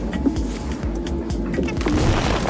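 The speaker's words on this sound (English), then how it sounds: "Heavy firing now just behind us, and anti-aircraft bursts in the sky, and bombs bursting on the shore and along in the convoy" Wartime explosions from anti-aircraft fire and bombs bursting on a shore and along a convoy sound as repeated dull booms and thuds in a noisy old news recording, coming in irregular succession over a constant hiss.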